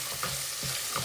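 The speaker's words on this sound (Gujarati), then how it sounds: "અને આ બાજુ મારો સાંભાર બને છે." Sambar simmers in a pot with a steady bubbling, sizzling hiss, close and continuous, and no voices.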